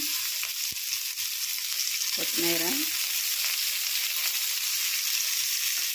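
Continuous hiss of ginger and green chilli paste frying in oil, close and steady, with a brief spoken word and a sharp tap early on.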